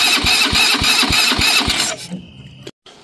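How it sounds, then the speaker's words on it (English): A junky go-kart engine running on an old carburetor with the fuel shut-off disconnected fires loudly with a rapid, rhythmic putter for about two seconds, then sputters and dies into near silence. "We're able to get it to fire over for about 2 seconds again, and then it shuts off"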